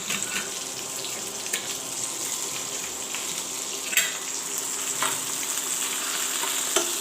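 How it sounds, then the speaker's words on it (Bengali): Fish and chopped onion fry in a pan with a steady close sizzle, broken by a few sharp utensil clinks and scrapes as the mixture is stirred; no one speaks. "এই তো মাছটাকে আমি ভাজতে দিয়েছি"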